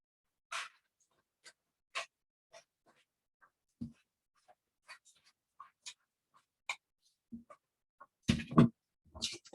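Scissors roughly cutting through a paper sewing pattern, heard as quiet, sparse snips and crinkles spread irregularly, with a brief rustling cluster near the end.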